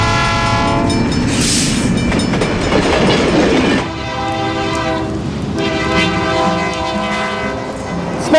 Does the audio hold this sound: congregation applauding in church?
no